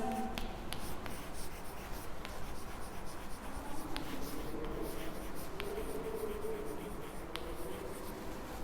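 Pencils or pens scratching on notebook paper as pupils write in a classroom, a steady soft rustle against low room noise with faint scattered taps.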